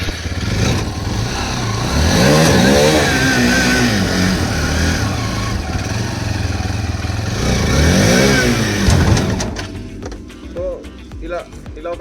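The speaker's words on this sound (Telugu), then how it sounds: "పవర్ ఇచ్చి క్లచ్ వదిలేస్తే ఇలా బైక్ లేవడం పడిపోవడం అవుతూ ఉంటుంది" A Hero Xtreme 160R motorcycle revs hard during a wheelie stunt, its engine rising and falling in repeated surges at close range, with someone talking over it before the engine drops away near the end.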